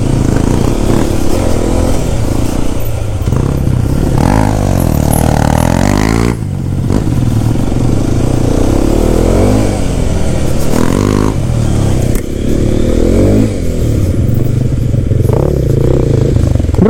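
A Hero Xpulse 210 motorcycle is ridden off-road, its engine and exhaust droning loudly and steadily throughout with shifts in pitch as the throttle changes, plus occasional clatter.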